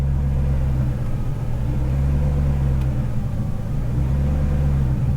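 A BMW E39 540i with a 4.4-litre V8 idles at low RPM with a steady, close engine rumble, showing only slight fluctuation as it surges, without talk.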